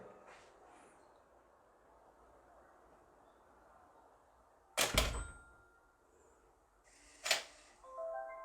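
A door fitted with a newly adjusted door closer swings shut, landing in a sharp close thud with a rattle, followed a couple of seconds later by a second, lighter knock, in a quiet room.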